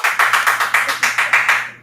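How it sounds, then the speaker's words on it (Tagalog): One person clapping at a steady, quick rhythm, about eleven crisp claps close to the microphone, stopping cleanly. "Salamat kay Marlon na pumapalakpak"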